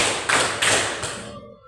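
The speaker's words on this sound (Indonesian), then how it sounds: "Kalau saya bilang tepuk satu, harus tepuk satu." A class of students clapping hands in unison on the teacher's command: three sharp group claps about a third of a second apart, loud and close, the last ringing out into a short decay.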